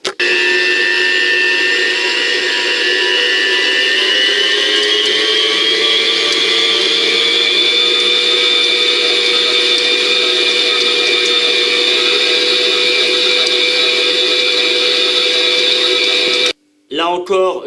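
An electric stand mixer beats choux pastry dough for cheese and ham gougères with its paddle, a loud steady whine that runs unbroken before cutting off near the end, followed by a short clatter.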